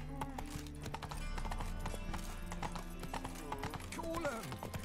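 Horse hooves galloping in The Witcher 3, a fast rhythmic clip-clop that stays steady throughout over a background game soundtrack.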